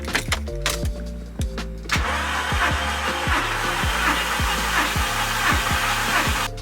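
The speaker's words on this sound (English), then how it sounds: "We're going to turn the engine over on the start motor, give it a few revolutions" A VW Golf GTI 1.8T engine cranks over on its starter motor with the spark plugs removed, a steady whirring drone with rhythmic pulses after a few clicks, close and loud.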